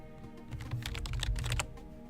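Fast, uneven keystrokes clatter on a computer keyboard for about two seconds, clustered in a dense burst near the middle, with no voices over them.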